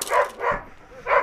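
A protection dog in training gives three loud, close barks at an uneven rhythm, with no talking over them.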